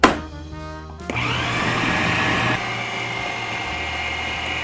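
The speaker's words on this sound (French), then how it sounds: "Je referme le robot et je mixe à nouveau pour bien tout mélanger." A food processor whirring as it mixes sausages with eggs and baking powder, a brief clunk and pause giving way to a steady loud motor drone that shifts slightly in pitch as the mixture blends.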